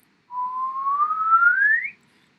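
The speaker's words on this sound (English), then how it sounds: "I'm just going to do a simple kind of whistle sound" A single sustained whistle rising slowly in pitch for about a second and a half, clear and close, with nothing else around it.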